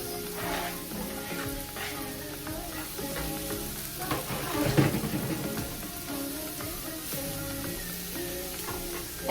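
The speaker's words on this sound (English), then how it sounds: "it's been about a minute or so with my onions and minced garlic, so now I'm going to add my mushrooms" Onions, minced garlic and mushrooms sauté in a pan with a steady close sizzle, broken by stirring scrapes and a louder burst midway, over faint background music.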